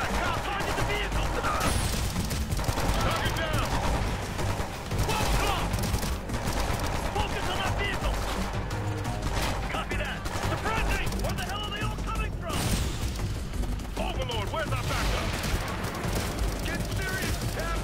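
Dense game gunfire from the tactical shooter Ghost Recon Future Soldier, bursts and volleys rolling almost continuously with explosive booms, mixed under voices talking throughout.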